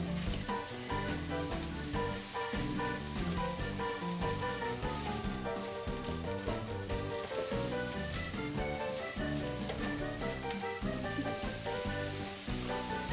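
Onions and green onion bottoms sizzle steadily as they fry in a pan for a Cajun shrimp étouffée, a continuous close crackle running under prominent tonal background music with no talking.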